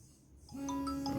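A Z79 Max smartwatch plays a faint electronic ringtone for an incoming Bluetooth call, with soft sustained tones and brief higher chimes beginning partway through over a low background hum.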